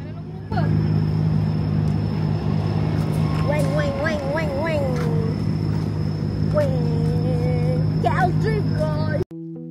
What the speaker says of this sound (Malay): Kereta-kereta sport Jepun tengah drift dan rev engine